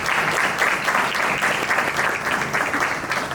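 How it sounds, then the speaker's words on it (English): Sustained applause from a conference audience in Houston, steady dense clapping filling the room without a break. "Let's give them a round of applause."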